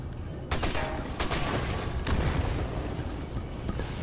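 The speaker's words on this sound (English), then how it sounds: "secondary random secondary explosion" Rapid gunfire and rumbling secondary explosions in the Sniper Elite 4 video game, a dense continuous barrage of sharp shots over heavy low booms lasting the whole stretch, loud and close.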